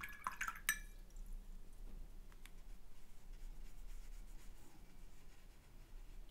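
An ink paintbrush rinsed in a small container of water: a few bright clinks and splashy swishes at the start, then quiet dripping and faint rubbing under a low room hum.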